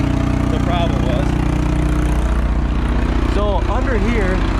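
A crop sprayer's engine idles steadily and loudly close by, a constant mid-pitched mechanical hum, while someone speaks over it.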